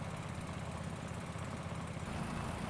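Tractor engine from Farming Simulator 22 driving at low speed, a steady droning low rumble with constant mid-range noise, continuous and unbroken throughout.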